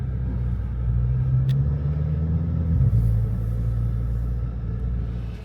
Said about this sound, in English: Alvaro and his doomsday truck have arrived.